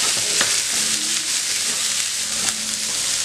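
Chopped onions sautéing in a pan for a mushroom pepper fry, with a continuous close sizzle and a couple of brief clinks from stirring, and no talking.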